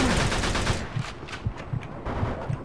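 Gunfire in the Mafia 2 video game: a fast, steady series of loud shots, roughly two to three per second, continuing throughout.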